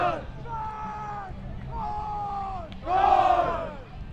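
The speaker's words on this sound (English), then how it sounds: "Microphone picking up the German cheer." A German team's chanted cheer at a match, with several voices shouting together in short rising calls, the last one loudest, over steady crowd noise.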